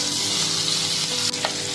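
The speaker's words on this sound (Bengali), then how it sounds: "এবারে পেঁয়াজ ও মরিচটাকে ভালোভাবে ভেজে দেব।" Onion and green chili frying in a pan make a dense, steady close sizzle throughout, with a brief stirring scrape near the end.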